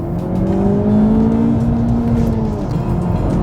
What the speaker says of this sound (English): We're gonna get some acceleration here in a second.